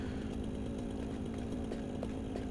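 A chainsaw in the video game Satisfactory runs steadily while cutting through bushes, a continuous buzzing drone with a gritty rasp that holds at an even loudness throughout.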